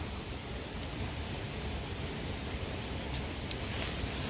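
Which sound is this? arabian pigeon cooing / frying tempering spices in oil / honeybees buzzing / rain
rain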